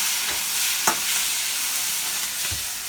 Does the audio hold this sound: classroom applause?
no